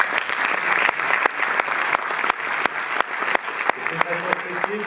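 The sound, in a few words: audience applause at a cinema retrospective opening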